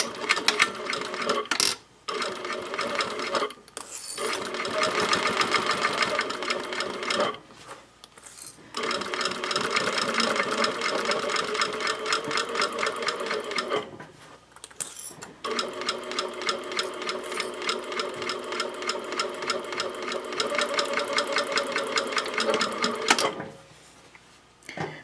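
A sewing machine runs stitch length 2.5 along the seams of a zippered pouch with a fold-flat bottom, whirring steadily in long close bursts separated by a few short pauses.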